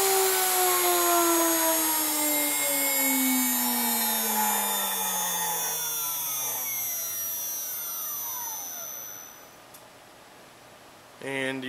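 A 2.2 kW Chinese spindle driven by a Hitachi X200 VFD spins down, a loud steady whine with tones falling in pitch over about nine seconds, then a short sharp relay click near the end.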